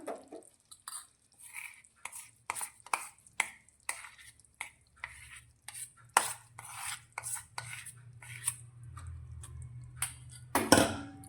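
A spoon stirs crushed peanuts into melted jaggery in a pan for Gujarati mava chikki, giving quiet, irregular scraping and clinking strokes against the metal with a soft, sticky low rumble underneath.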